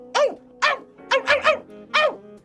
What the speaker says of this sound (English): Gelert jumped up and barked happily.